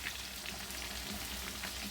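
Fish frying in hot oil on a stovetop, giving a steady, dense sizzle and crackle that continues without a break at close range, with no voices over it.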